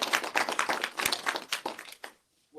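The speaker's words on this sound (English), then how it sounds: "Let's give a round of applause for Paige," A conference audience claps for a few seconds, a soft, scattered patter of hands that thins out and stops.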